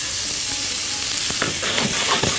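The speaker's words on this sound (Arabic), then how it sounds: "ادي حبة زيت زيتون، وادي بصل مفروم" Minced onion sizzling in olive oil in a hot pan, a steady close frying hiss with light stirring clicks and no voices.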